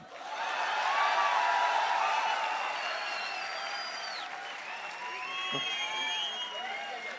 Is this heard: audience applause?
yes